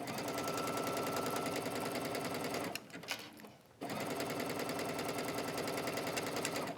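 A home sewing machine runs steadily while stitching a faux wrap dress, a fast, even mechanical whir close by, pausing for about a second midway before resuming at the same pace.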